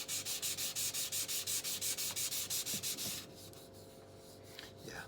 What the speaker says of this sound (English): So this is 1500 grit sandpaper, so I'll just go very